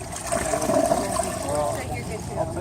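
A toilet using stealth air-assisted flushing technology flushes with a rushing, gurgling wash of water, close and steady, with people talking over it.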